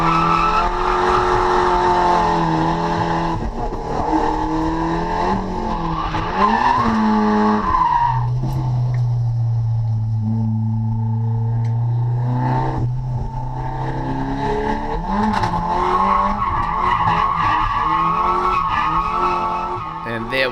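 A race car drifts on a track, tires squealing loudly in long sustained howls that rise and fall in pitch as the engine revs, with a steady tonal skid in the middle and a brief voice over it.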